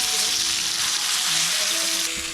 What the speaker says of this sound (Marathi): थोडं लांबच बसतो तर तेलाचे चटके पडतायत